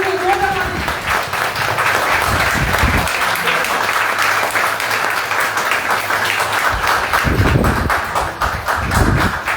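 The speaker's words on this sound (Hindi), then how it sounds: "जोरदार तालियों से स्वागत।" Loud, sustained applause from an audience welcoming a company president at a business event. Dense clapping fills the whole span, with a voice speaking over it in places.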